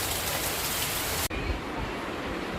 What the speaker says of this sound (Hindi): देखिए कितनी तेज़ बारिश होने लगी, बहुत तेज़ पानी गिर रहा है